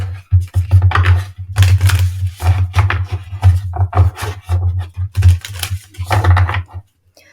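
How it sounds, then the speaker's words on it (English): A tarot card deck being shuffled by hand in quick papery bursts of riffling and rubbing, close and fairly loud, over a steady low hum, before stopping near the end. "Let's go ahead and start shuffling."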